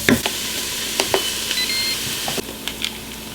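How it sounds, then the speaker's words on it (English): Garlic and onions sizzle steadily in a hot pan while a utensil stirs and scrapes against it, with occasional clacks and light clinks. "we're going to stir this for a second"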